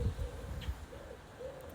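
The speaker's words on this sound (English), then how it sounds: "Oh, bird." A bird calls outdoors in soft, low cooing phrases, two or three short rising notes at moderate distance over faint background rumble, quiet and unaccompanied by speech.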